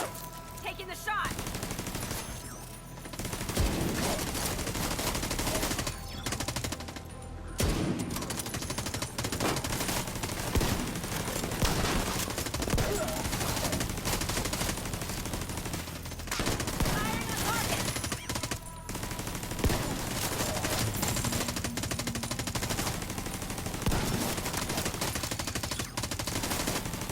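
Sustained gunfire in The Division 2: Warlords of New York, a dense fusillade of overlapping rifle bursts and shots over almost half a minute, with brief lulls and voices talking between volleys.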